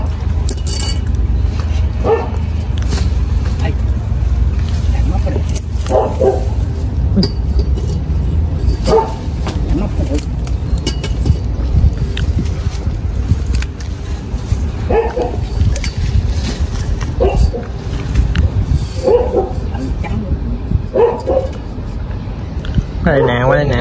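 A chained dog barks in short, loud bursts at several points, with softer whining between them, while people talk nearby over a low, steady background rumble.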